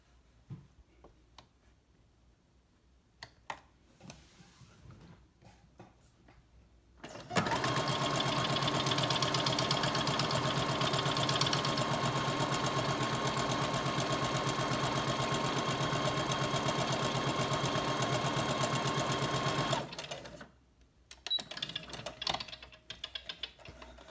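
A sewing machine stitches two pieces of fabric together for a quilted pot holder, running as a steady, loud, continuous whir for about twelve seconds after quieter handling sounds, then stopping abruptly.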